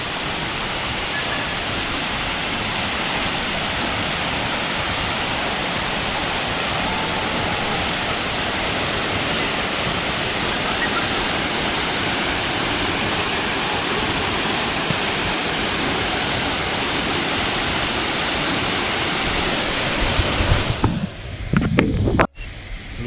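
Khun Korn waterfall in a forest in Chiang Rai roars steadily and loudly as a dense, unbroken wash of falling water, then drops away near the end with a few brief knocks.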